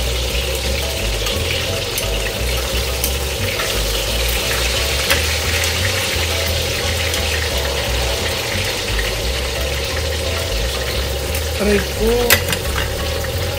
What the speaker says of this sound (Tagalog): Kaya ayoko magluto kasi ganito nagtatalsik.